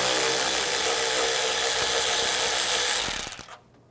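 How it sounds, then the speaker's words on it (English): A 10mm socket loosens a bolt on a 2013-2016 Dodge Dart 2.4L engine bay, a dense continuous whirring rattle from a power ratchet that runs close and loud for about three seconds, then stops abruptly. "use a 10mm socket."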